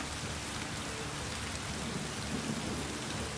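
Steady wash of rainfall in Ride 3, the motorbike racing game, at the Imatra track, an even broadband hiss with faint low rumbling underneath, continuous and unbroken, no speech.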